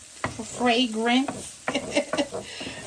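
A whole clove of diced garlic frying in a pan for curry chickpeas, a soft, steady sizzle running beneath a voice that talks over most of it.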